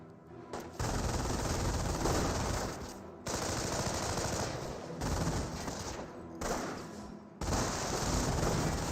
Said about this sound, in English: MG42 does get some good suppression here